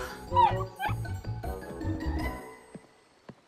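A female dog in an animated Strawberry Shortcake cartoon gives a few sharp, close yips and whimpers early on, followed by softer scattered barks over a busy musical background that fades near the end.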